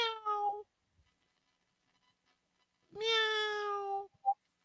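A person imitates a cat with two drawn-out meows separated by a pause of silence, followed by a brief short yelp-like sound, clear and close.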